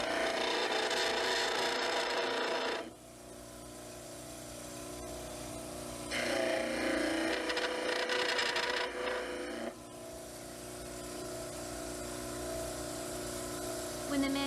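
A mandibular dental cast has its heels ground on a model trimmer. A loud, steady abrasive grinding comes in two long bursts, with a quieter motor hum running between and after them.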